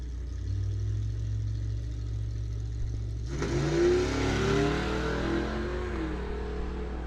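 A car at a drag strip, a deep engine drone that jumps into a loud revving surge partway through and then settles into a rough, rumbling idle, heard from close by with no talking.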